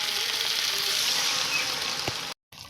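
Steady sizzling of spice paste fried with chopped garlic, onion, chilli paste and ginger paste for a rohu fish curry, a broad continuous hiss with a brief clink near the end before a sudden cut to near silence.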